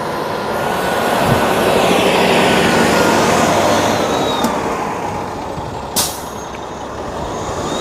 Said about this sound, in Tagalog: Ito yung bus na sinakyan ko